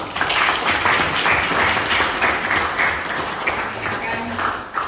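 A classroom group claps for a team after their presentation, producing loud, dense, continuous applause of many hands that carries through the whole stretch with no break.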